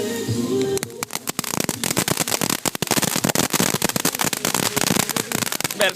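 Fourth of July fireworks going off, a dense rapid run of sharp cracks and bangs with irregular crackling bursts over about five seconds, loud and near, after a short quiet stretch at the start.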